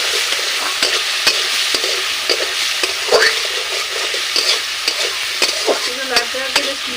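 Masala for a fish curry fries in a pan while a spoon scrapes and stirs it, giving a steady sizzle broken by frequent sharp clacks and scraping strokes, with no speech.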